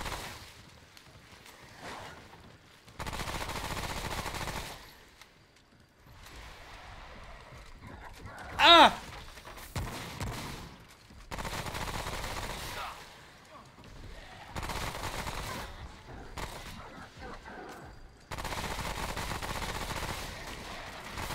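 Bursts of gunfire in the video game Remnant: From The Ashes during a boss fight against The Unclean One, arriving in loud clustered volleys separated by quieter gaps, with one sharp spike midway.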